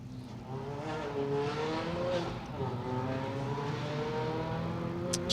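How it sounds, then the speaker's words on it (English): A Spark Developments Mini Cooper S R53 rally car on an asphalt stage, its engine revving loudly nearby with a rising and falling supercharger whine through gear changes, and a voice talks faintly underneath. "It's a noisy little thing that you can hear the supercharger whining on that Spark Developments R53."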